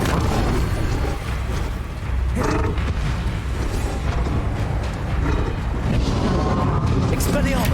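A Confringo fire spell explodes during combat in the Hogwarts Legacy video game: dull booms and bursts rise out of a loud, dense wash of creaking, grinding game effects, with brief swells and no clear speech.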